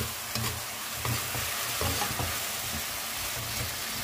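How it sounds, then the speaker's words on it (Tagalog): Prawns sizzling in a hot pan as they are stirred together with Thai sauce, a steady close frying hiss broken by scraping stirring strokes, with no talk over it. "i-mix po natin siya hanggang maluto na po yung prawn natin"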